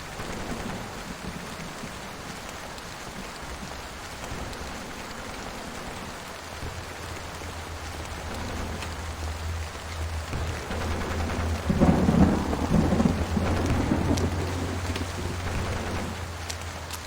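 Steady rain falls throughout in the PC game Portrait of a Torn, with a low rumble building in the second half as the downpour grows heavier, no voices present.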